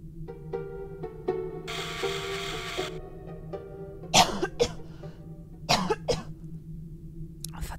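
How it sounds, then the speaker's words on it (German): Two bursts of harsh coughing, close and fairly loud, over a steady low electronic hum with faint ticking and a brief buzzing tone from a video game running in the background. "musste ich doch glatt hier husten"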